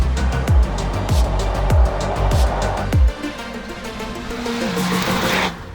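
Honda Civic Type R 2020 engine revving hard through several quick gear pulls, each a loud rising surge cut off sharply, then a lower steady drone of road and wind noise after the last shift.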